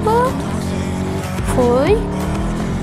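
A lowered car drifts around a curve in a racing game, its engine droning steadily while the tires squeal in rising pitch through the turn, with someone talking over it.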